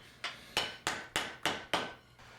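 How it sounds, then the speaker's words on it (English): A hammer cold forging an annealed steel hori-hori knife blade rings out in six sharp metallic strikes at an even, unhurried pace, close and clear with quiet gaps between blows. "give the blade a rough anneal so that I can cold forge it a hair"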